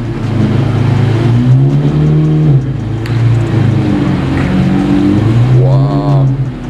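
A loud, straight-piped exotic car revs hard at the Gumball 2022 rally, its engine roaring steadily near the listener with rising and falling pitch swings and a sharp climbing rev near the end.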